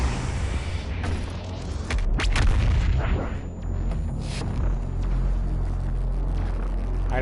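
Heavy booming blasts and deep rumble from the BFG-10,000 firing in DOOM Eternal, a loud continuous barrage of low thuds and crackling bursts across several seconds with no speech.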